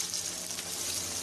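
Onions hit hot cooking oil, about one and a half cups, with a dense, bright, continuous sizzle, close and loud with no voices over it.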